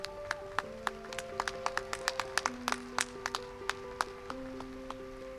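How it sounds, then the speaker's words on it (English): Scattered, sparse hand claps from an audience at a high school graduation ceremony, crisp individual claps spread irregularly over a steady sustained tone, moderately loud throughout. "Please join us in a round of applause for these wonderful leaders."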